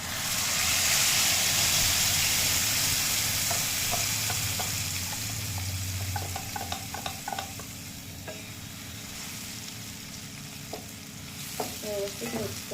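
Ground masala paste hitting hot oil for a mushroom gravy, a loud hissing sizzle that gradually settles, with spoon clinks and scraping against the pan scattered through the latter half.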